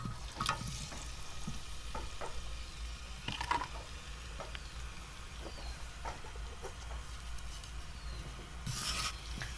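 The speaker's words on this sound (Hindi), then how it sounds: "तो अब इसके ऊपर हम वो गोश्त की बोटियां डाल देते हैं।" Marinated mutton boti pieces fry in hot oil on a tawa for tikka boti. Crackling and sizzling carry on steadily, with intermittent scraping and clatter as the pieces are moved about, and a louder burst near the end.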